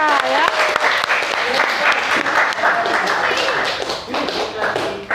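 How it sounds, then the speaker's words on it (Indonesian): Applause in a classroom for a student group after their presentation, many hands clapping in a dense, steady burst that continues throughout. "berikan aplaus untuk kelompok 3 ya"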